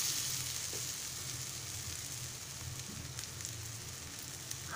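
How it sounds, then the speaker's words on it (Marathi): Besan pola, a gram flour pancake, fries in oil on a flat griddle, giving a steady, fairly faint sizzle with a low hum underneath, continuous throughout with no talk. "आणि आता वरून असं तेल घालायचं आणि 2 मिनिटं थांबायचं। आता आपण दुसऱ्या बाजूने परतून घेऊया।"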